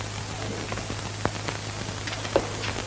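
Rain patters steadily in a classic black-and-white Malay film scene, a soft hissing wash with a few sharper drop hits and a low steady hum from the old soundtrack.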